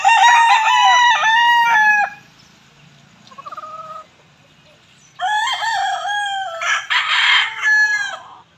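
A rooster in a backyard chicken coop crows loudly and close, long drawn-out calls twice with a shorter, quieter cluck-like call between them.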